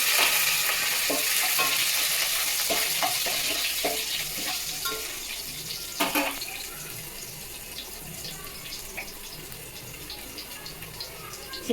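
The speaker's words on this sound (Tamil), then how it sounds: "பட்டை, இலை, லவங்கம் எல்லாம் தாளிப்பு கொடுத்துட்டு இஞ்சி பூண்டு போட்டு" Cinnamon, bay leaf, cloves, ginger and garlic sizzle in hot oil in a pan for a South Indian curry, with a steady close crackle and occasional scraping stirs that fade slightly toward the end.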